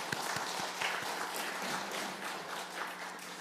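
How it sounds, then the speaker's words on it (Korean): Church congregation clapping in thanks during a Sunday service, a soft steady patter of many hands filling the room, with faint sharper claps near the start. "우리 감사의 박수 한번 하겠습니다"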